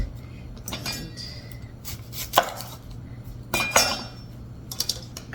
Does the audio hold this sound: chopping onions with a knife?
yes